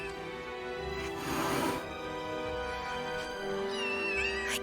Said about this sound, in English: Kittens?